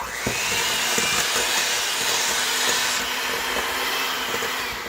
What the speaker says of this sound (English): we're going to mix the sugar and butter together